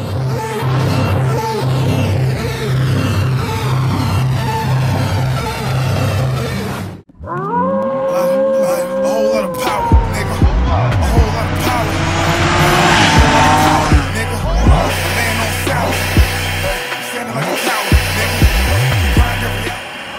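A car engine with a failing RIPP supercharger whines and rattles, first a steady harmonic drone, then after a brief cut rising revs with sweeping whines and gritty mechanical noise, loud and close.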